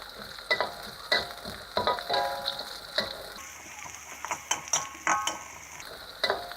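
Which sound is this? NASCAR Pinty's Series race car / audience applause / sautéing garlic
sautéing garlic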